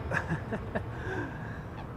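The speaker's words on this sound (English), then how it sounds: "A duck with a really weird sound just passed by, did a low pass" A duck with an odd, honking call makes a low pass near Schiphol Airport, giving a few short, rough calls close by over a steady background hum.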